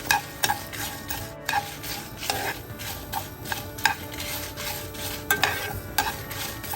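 Dry red chillies and coriander seeds are stirred in a pan and lightly roasted for Jaffna-style puli kanchi. A spoon scrapes and clicks against the metal in an uneven rhythm over a soft, quiet sizzle, with no voices.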